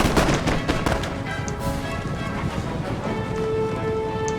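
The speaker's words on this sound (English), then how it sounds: "that artillery is just such bad shots" Artillery fires in Empire: Total War in a Poland-Lithuania and Spain versus Russia and Sweden battle, with dense overlapping booms and crackling reports in a continuous loud battle din, busiest at the start.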